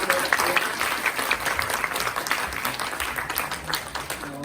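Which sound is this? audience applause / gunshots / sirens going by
audience applause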